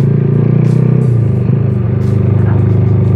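A Yamaha Jupiter Z 115cc motorcycle fitted with a CLD racing exhaust, revving loud and close with a rapid pulsing engine note that dips slightly midway and then climbs again.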